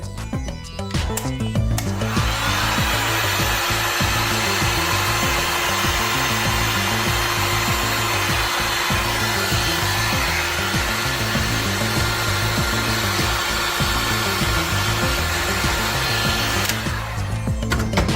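A heat gun blasts hot air to shrink heat shrink tubing: a loud, steady blowing roar switches on after about two seconds and holds unbroken for roughly fifteen seconds before cutting off, with no talking.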